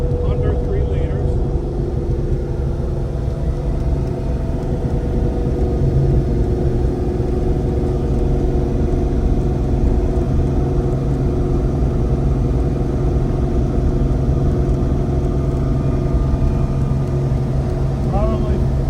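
A 1953 Ferrari 212 Europa with a V12 under three liters idles and runs steadily nearby, a loud continuous engine rumble held throughout.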